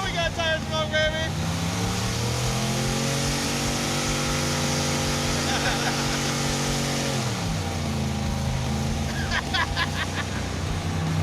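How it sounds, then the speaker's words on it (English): A Mazda-based Mazdarati 2.0 engine revs hard and steadily, pitch climbing and holding before dropping off, as the tires spin into a smoky burnout; loud, continuous and close. "We had to go to great lengths to smoke the tires."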